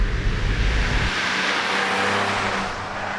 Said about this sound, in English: where is that raspy little sound coming from? This, the 3-cylinder engine.